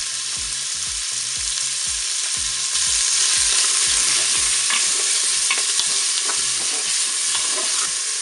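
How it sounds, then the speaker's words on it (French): Tuna frying in hot oil in a Cookeo electric pressure cooker pot, a steady broadband sizzle throughout with repeated scraping stirs, close and loud, no talk. "mon huile elle est chaude. Alors qu'est-ce que je vais faire? Eh bien, je vais mettre mon thon dans la cuve."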